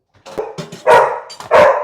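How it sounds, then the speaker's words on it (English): A dog barks indoors in a few sharp bursts, with the last two barks louder and closer, and no talking over them. "Excuse me, the dog is going crazy."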